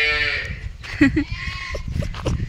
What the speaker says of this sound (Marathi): आज आपल्या वावरात आलेले आहेत मेंढ्या